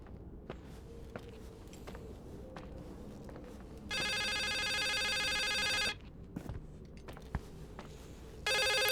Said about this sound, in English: I knew this phone was going to ring.